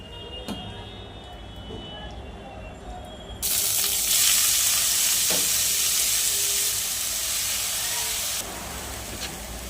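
Fenugreek greens frying in ghee in a pan: a broad sizzling hiss jumps up suddenly partway through and stays loud and steady close by, with soft stirring clicks beneath it and then eases slightly near the end.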